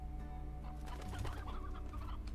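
Hens and roosters in the farming game Slime Rancher, with soft, low clucking and cooing calls repeating against a steady hum, quiet and close, with no one speaking.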